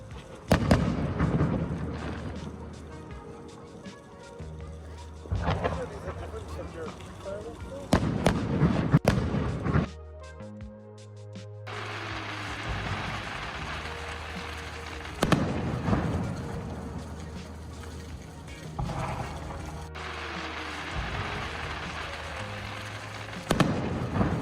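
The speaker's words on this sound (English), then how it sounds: "It was a good fireworks show." Fourth of July fireworks seen from a hotel parking lot, a series of booming bursts and crackles at irregular intervals, some near and loud, others softer, with people talking between the blasts.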